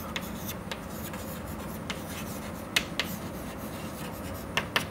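Chalk or marker writes on a classroom board in close, soft scratchy strokes with a few sharp taps, under a steady low room hiss.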